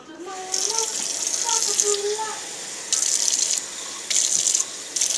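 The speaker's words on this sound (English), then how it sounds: "I'm going to come over here to my sink and put some water in the can." Water from a kitchen sink tap gushes into a can in three or four loud bursts with brief pauses, close by, while a person talks near the start.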